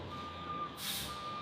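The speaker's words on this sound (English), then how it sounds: "Truck turnaround is choreographed. One departs as the next aligns." A truck maneuvers at a potato factory loading dock, with a steady reversing beep over a low engine rumble and a brief hiss of air brakes midway, heard at moderate distance.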